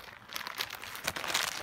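A small KVD Plano Elite soft plastic bait bag crinkles as it is folded, a close, continuous rustle of plastic with a few sharper crackles, heard alone.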